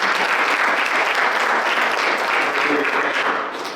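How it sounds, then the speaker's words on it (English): A roomful of people applauds at a chiropractic practice business seminar, dense and continuous clapping that stays loud and full before easing off slightly at the end. "Let's give a round of applause for Tyler."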